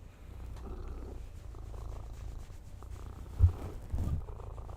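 A cat purrs close by near a computer keyboard, mouse and cables, a soft continuous low rumble with a brief louder bump near the end.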